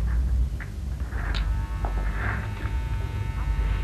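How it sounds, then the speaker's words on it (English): An electric hair clipper fitted with a number 3 trim guide buzzes with a low, steady hum as it works upward against the nape of the neck, close and continuous, with faint brushing sounds from the hair. "she'll start at the nape of the neck and hold the clipper against the neck"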